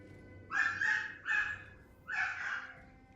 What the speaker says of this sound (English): Doggy's getting worked up.